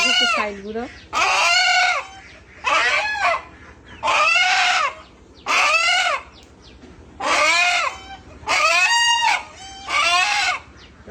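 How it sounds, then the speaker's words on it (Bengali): A caught rooster clucks and squawks loudly and close by in repeated harsh bursts about a second apart, with quiet gaps between calls. "একটা মোরগ ধরা হয়েছে এটাকে জবাই করতে হবে"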